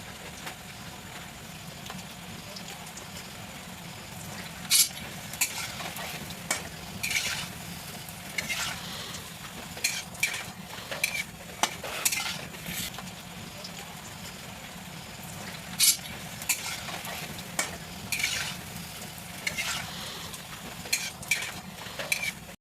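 Kotkoti snack pieces fry in hot oil in a wok: a continuous low sizzle runs throughout, broken by frequent sharp metallic clinks and scrapes of stirring.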